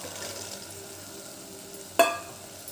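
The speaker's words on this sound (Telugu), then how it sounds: "టమాటా ముక్కలు మగ్గిన తర్వాత ఇందులోకి 1 కప్పు బీన్స్ వేసుకోవాలి." A cup of beans tipped into softened tomato pieces cooking in a pan: one sharp clattering drop over a low, steady sizzle, close by and with no voices.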